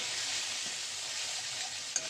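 Egg fries and is scrambled in a pan with a soft, continuous sizzle and light stirring, fairly quiet and close, ending with a brief utensil tap.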